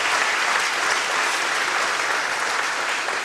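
Audience at a classical Christmas evening concert applauding a performer, a dense, loud and sustained wave of clapping from a large crowd, unbroken and without speech.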